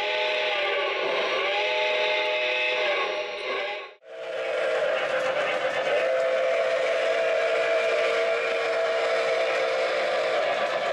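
A Lionel Texas and Pacific model train engine runs loud and steady, with a whistle-like tone sounding over its continuous hum, a brief dip near the middle, then a sustained whistle and rumble.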